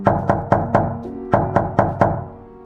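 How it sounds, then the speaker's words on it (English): Eight sharp knocks on a hollow surface in a rental home at night, in two groups of four, a short pause between them, each ringing briefly; close and loud. "Then knocking again."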